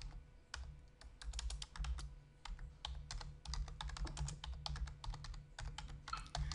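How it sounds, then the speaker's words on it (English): Rapid, close clicking of keys on a computer keyboard, typed in quick bursts with short pauses and a low hum underneath. "I'm going to type in fitness instructor."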